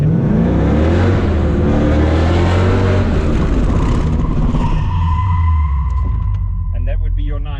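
A car pulls a handbrake ninety-degree drift turn, first to second gear, with a loud sustained engine drone and tire scrub, tapering into a high whine and squeal at the end, with a voice talking over it.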